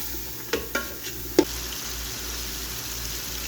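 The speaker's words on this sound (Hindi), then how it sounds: "अच्छी तरह मसाले को 1 से 2 मिनट के लिए कुक करूंगी मैं।" Tomato puree masala for pumpkin daal fries in a pan over high flame, giving a steady hiss. A few light scrapes and knocks of a spoon stirring come in early and then give way to continuous frying.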